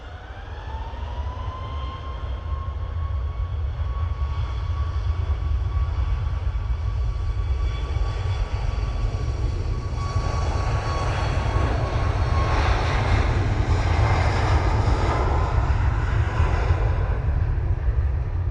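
An airliner departs Manchester Airport bound for Krakow, its jet engines building into a loud, sustained roar with a whining tone that slowly falls in pitch.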